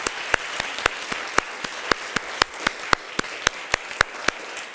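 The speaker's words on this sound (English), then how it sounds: "let's give them a round of applause for their great accomplishment" An audience at a Pembroke Center council meeting applauds student award recipients, with one crisp, close pair of hands beating a steady, even rhythm over a continuous wash of crowd clapping.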